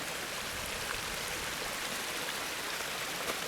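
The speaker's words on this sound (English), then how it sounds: "It's like another little separate channel, another separate stream when it wants to flow, coming onto the trail and going down towards the Livingstone and Pimentals" A small separate channel of water runs onto a mossy hiking trail, a steady soft rushing trickle heard close and even throughout with no voices.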